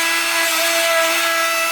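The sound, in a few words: abrasive barrel roll grinding Chevy 372 engine block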